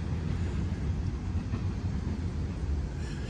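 A CSX train heading south on the Toledo sub passing on an elevated track through Dayton, Ohio, a loud, steady low rumble and roar of rolling railcars close by.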